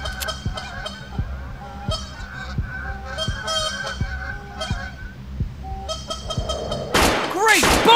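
Geese honk repeatedly in the Remington Great American Bird Hunt video game, layered over steady game audio, ending in a loud burst of gunfire near the end.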